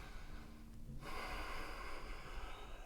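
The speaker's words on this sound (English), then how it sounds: "keep breathing deeply" Breathing during yoga handstand hops in a vinyasa flow class: a short sharp nasal exhale or snort, a brief pause, then a sustained breathy rush of air, close and fairly quiet.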